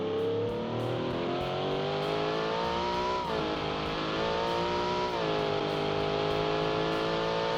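A 64-cylinder truck engine in the Automation racing game revs hard and continuously, a loud, rich multi-toned roar that rises and dips through gear changes with no voices over it.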